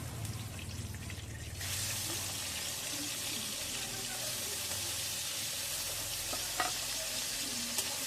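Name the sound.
prawns frying lightly in mustard oil in a wok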